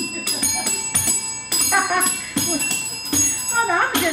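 A small handheld bell rings in a run of quick, bright, evenly spaced dings, close and fairly loud, with a voice speaking over parts of it.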